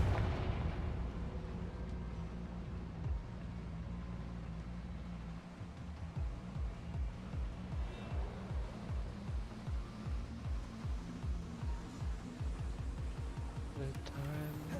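Confringo spell explosions boom in Hogwarts Legacy, first a heavy blast and then a rapid series of rhythmic thuds and bursts that fill the second half, with a voice talking faintly underneath.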